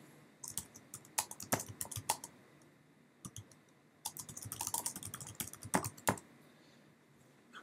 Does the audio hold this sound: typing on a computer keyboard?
yes